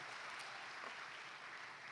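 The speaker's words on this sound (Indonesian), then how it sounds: "Boleh tepuk tangan, jangan ragu-ragu ya" Audience applause at the Fortune Indonesia Most Powerful Women 2022 event, a steady wash of clapping that is faint and somewhat distant, with no voices over it.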